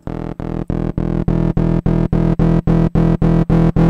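A KV331 Synthmaster synthesizer with its digital filter driven into distortion plays a rapid train of about a dozen identical buzzy, harsh notes, each cut off sharply, loud and evenly rhythmic with no voice.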